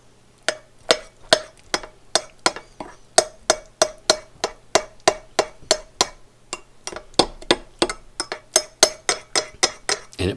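Hollandaise sauce stirred with added lemon juice: a steady series of about thirty sharp clinks of a utensil against a bowl in a quick, even rhythm, close and clear with nothing else heard.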